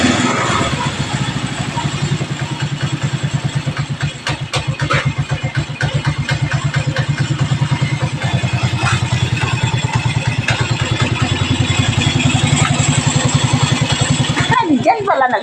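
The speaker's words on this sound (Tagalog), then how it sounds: "Tunog ng motor." A stock motorcycle engine idles with a rapid, even pulsing thump close by, steady throughout, while people talk over it.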